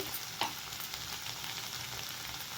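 Okra and tomato curry frying in a pan as chili powder and salt go in: a soft, steady sizzle with a brief clink of a spoon early on, no talking.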